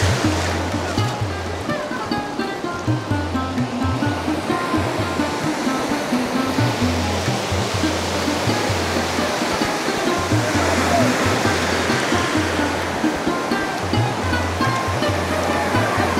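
Sea waves roar onto Shubho Sondha beach in a continuous loud surf rush, with a low rhythmic throb pulsing underneath.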